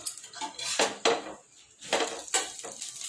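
Metal utensils scrape and clink against a pan as a paneer puda is flipped, several quick clattering strokes in an irregular rhythm, close and clear with no talking.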